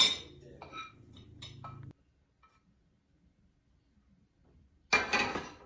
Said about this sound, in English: So let me put it on a plate.